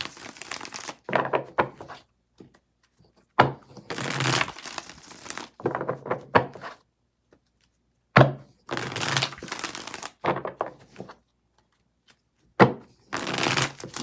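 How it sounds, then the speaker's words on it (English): A deck of tarot cards shuffled in several separate bursts of crisp riffling and clacking, with short pauses between each shuffle and no voice over it. "Let's get 4 shuffles here."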